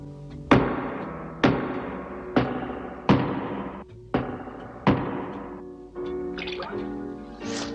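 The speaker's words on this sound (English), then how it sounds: "Clenching his gloved fist, he hammered on the cold metal." Six heavy, resonant bangs land about a second apart, each ringing out briefly like a fist pounding a metal door, followed by softer clattering.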